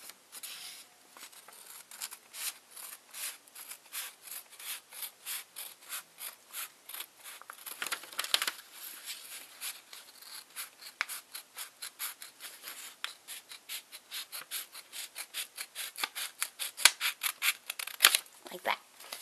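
Scissors snip steadily through folded paper for a paper heart wreath, a long run of quick, evenly spaced crisp cuts that grow slightly louder and sharper toward the end, close and fairly quiet.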